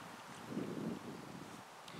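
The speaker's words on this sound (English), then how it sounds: "Very windy, hope you can hear us." Wind buffeting a microphone on a windy hike among black flies, a low, muffled rumble that swells briefly and then settles into a soft, steady roar, with no clear talk.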